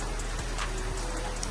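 Steady rain falls outdoors as a constant, moderate hiss of drops spattering on surfaces, unbroken for the whole moment and with no voices over it.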